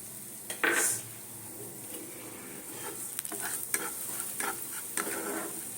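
Semolina stirred in ghee in a pan, a soft continuous sizzle with repeated scraping strokes of a spatula and a few light clinks against the metal, close and fairly quiet.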